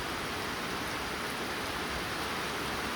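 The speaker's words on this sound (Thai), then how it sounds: "ฝนตก" Steady, dense rain falls in a continuous even hiss, close and fairly loud, with no voices.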